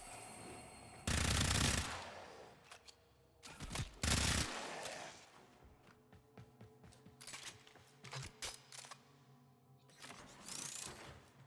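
Pistol gunfire in the Warframe video game: several dense, loud bursts of rapid shots separated by quieter stretches of clicks and mechanical clatter, with no talking.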